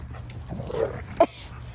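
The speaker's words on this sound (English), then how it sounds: "I don't like that growling" Dogs play together with low growls and a brief yip, close by, while a person talks quietly over the scuffling.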